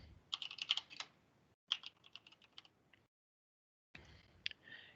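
Bursts of computer keyboard typing as a project description is entered, fast clustered keystrokes in three runs with a short pause and a longer silent gap between them, close and clear with no voices.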